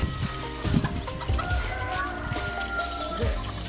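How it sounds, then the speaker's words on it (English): Chickens at an animal rescue cluck in a busy flock close by, with repeated low clucks and occasional crowing-like calls over steady outdoor background. "Wow, look at all those chickens."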